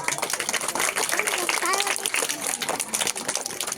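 A crowd at a school sports competition opening ceremony claps together, giving a dense, steady patter of applause that fills the scene, with a voice talking over it throughout.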